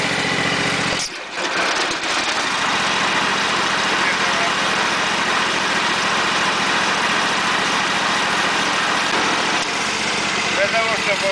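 A Husqvarna CTH 224T garden tractor engine idles steadily and loudly close by, a continuous buzzing drone with a brief dip near the start.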